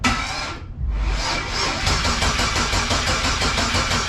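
A twin-turbo Mustang being converted to E85 cranks over and catches in a loud burst, then settles into a steady, rough, throbbing idle close by, with no talking.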